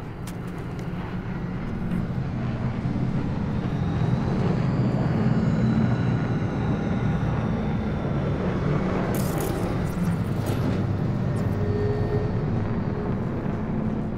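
A drone flies overhead in a video game, its steady droning engine hum rising and holding loud and near for several seconds, with faint rustling and scattered background game sounds underneath.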